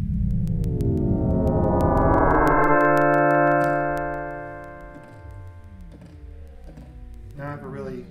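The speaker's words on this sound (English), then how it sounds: "So we're basically doing a two-op FM synthesis" Two-operator FM synthesis patch on a Kurzweil PC3 synthesizer built from sine waves: a bright metallic tone with swooping, shifting partials that sustains and slowly fades on a long release, then a few softer notes follow.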